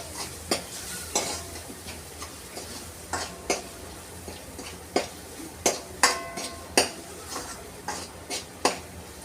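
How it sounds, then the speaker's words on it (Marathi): Spices stirred and sautéed in hot oil with onion and tomato for palak paneer give a soft sizzle under repeated scraping spoon strikes against the pan, irregular and close. "आता यामध्ये आपण जे मसाले घेतले होते ते टाकून घेऊया. आणि याला एक छान असं परतून घेऊया."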